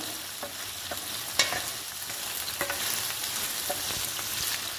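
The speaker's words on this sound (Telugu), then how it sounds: "అల్లం వెల్లుల్లి పేస్ట్ కూడా ఫ్రై అవ్వాలి వంకాయలతో కలిపి వేయించుకోవాలి" Eggplant pieces frying with ginger-garlic paste in a pan for spicy eggplant curry, giving a steady close sizzle with occasional stirring scrapes and clinks throughout.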